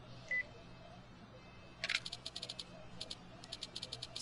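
Incoming phone call in the video game Yakuza Kiwami: after a quiet stretch, a run of short, bright electronic chirps repeats in quick, rhythmic bursts, fairly faint and without speech.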